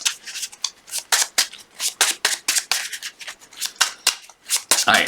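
Playing cards for a Wolverine card game are shuffled by hand, a rapid run of crisp riffling snaps and flicks in uneven bursts, close and clear, with no talking.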